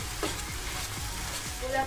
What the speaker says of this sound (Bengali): আমি জাস্ট হালকা এপিট ওপিট করে একটু ভেজে নিচ্ছি